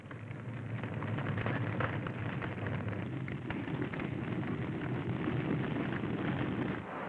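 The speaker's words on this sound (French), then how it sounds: "Feu de brousse dans l'Ituri." Bush fire in Ituri, Belgian Congo, a dense continuous roar with crackling and rumbling that stays loud and even throughout, no voices.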